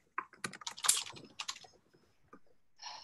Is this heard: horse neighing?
no